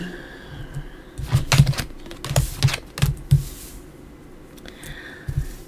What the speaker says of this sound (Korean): 스프레드 천을 안 쓰니까 카드를 뒤집기가 너무 힘들어요.